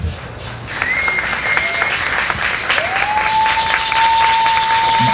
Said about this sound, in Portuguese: eu quero uma salva de palmas para uma das pessoas da mesa, Mônica